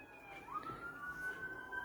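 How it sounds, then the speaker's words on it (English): A fire truck or ambulance siren near a hospital wails faintly in the distance, its pitch sliding upward and then holding a steady tone, with no talk over it. "And so we hear the fire truck,"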